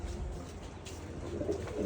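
Pigeons perched at a loft coo in soft, low rolling phrases, fairly faint against a quiet background, with no talk.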